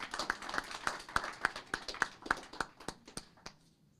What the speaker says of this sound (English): if we could give them a big round of applause.